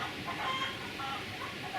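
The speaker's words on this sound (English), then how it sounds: "the chickens. That was a beautiful sound." Chickens cluck faintly in a steady, noisy outdoor village background in Transylvania, Romania, with a few short calls rising above the hiss.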